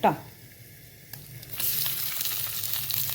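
Tomatoes go into hot coconut oil in a pan: a sharp clatter at the start, a quiet stretch, then a strong, close sizzle rising and holding to the end.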